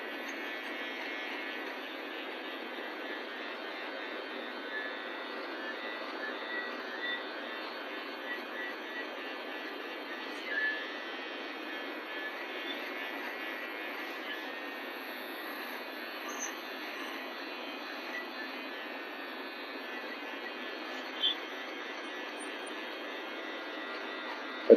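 An electric hair clipper runs during a taper haircut, a faint, steady, buzzing hum that continues unbroken with a few small clicks and taps.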